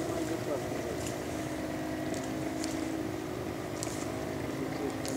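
A fishing boat's motor hums steadily in the background in Romania with a constant low drone, faint voices and water noise around it.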